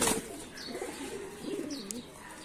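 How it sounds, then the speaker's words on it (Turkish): Mardin pigeons cooing in a steady, rolling series of soft, throaty calls, close by and fairly loud, with no other voices. "elimde 10 çift güvercin var"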